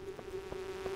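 Insects buzz steadily in a mine during Stardew Valley play, a continuous hum with a soft pulse returning about three times within the second.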